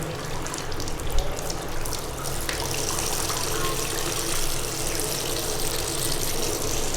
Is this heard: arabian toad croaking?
no